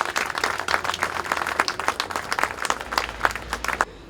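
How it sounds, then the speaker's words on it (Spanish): Audience applause at a memorial tribute event, many hands clapping in a lively and uneven burst at close range, with a low hum underneath, stopping abruptly just before the end. "así que les pido un aplauso para la Rusia, María Emilia Marchi"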